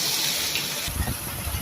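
Water flows strongly from a spring source in Agbalugo, Makato, a loud hissing gush that runs steadily before dropping into a lower, churning splash, with no talk over it.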